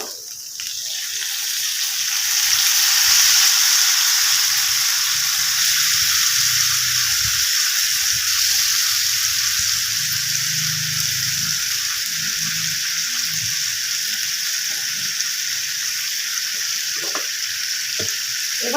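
Vegetables with split green chili, salt and tomato sizzle and fry steadily in a pan for dalia khichdi, a bright continuous hiss broken by occasional stirring scrapes, with a soft voice now and then underneath.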